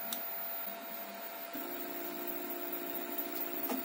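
A HyperCube 3D printer heating its nozzle gives a steady, quiet mechanical hum with a faint electrical whine that continues evenly throughout.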